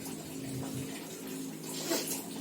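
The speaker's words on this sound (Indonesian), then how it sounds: "Selanjutnya menyalakan keran air, mengatur air sehingga kecil saja" Water runs steadily from a tap for ablution, a soft continuous low stream heard close and alone, with a faint splash near the end.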